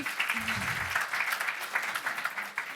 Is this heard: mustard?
no